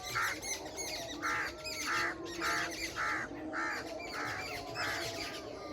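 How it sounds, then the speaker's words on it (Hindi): Morning birdsong in a rural garden, with a bird repeating a rhythmic call about eight times at regular intervals over a bed of chirps and other calls, and partridges sitting nearby, fairly faint and without voices. "सुबह सुबह ना परिंदों की आवाज़ सुने।"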